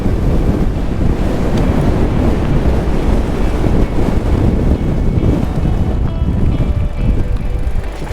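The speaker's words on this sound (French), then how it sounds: "Olé le vent." Strong, steady wind roaring across the microphone on a wild, deserted stretch of Menorca coast, with the rush of surf blending underneath; no talking.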